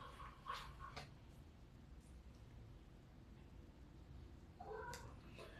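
A domestic cat meows a couple of times at moderate distance, one short call near the start and another near the end, over a quiet room with faint background hiss.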